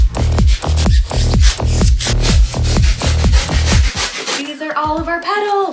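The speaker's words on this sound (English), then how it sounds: "That way I can even individually carve each petal a little bit and they'll just look separate and dimensional" Upholstery foam petals are carved with rapid, rhythmic rasping strokes, loud and close, repeating steadily for several seconds before trailing off into a few faint tonal squeaks.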